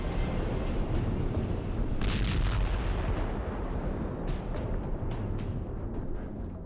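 Heavy, rumbling blasts of a wartime explosion in the Russia-Ukraine war, strong enough to wreck vehicles, roll through a dense low roar, with a few louder thuds standing out amid continuous booming.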